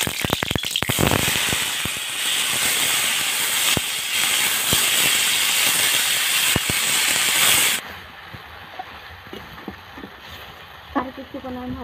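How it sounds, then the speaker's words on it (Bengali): Cabbage frying in hot oil in a wok, a loud steady sizzle and hiss filling the first eight seconds before dropping to a quieter simmer with scattered clinks and faint kitchen sounds. "এই বাঁধাকপিটা এখন আমি তেলে ভেজে নেব।"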